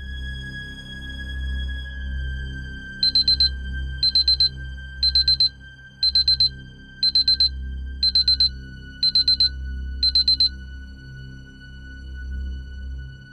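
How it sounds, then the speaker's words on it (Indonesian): An electronic phone alarm beeps in quick bursts of rapid pulses, repeating about once a second, loud over a steady low hum. "Umar terbangun dengan alarm di HP-nya."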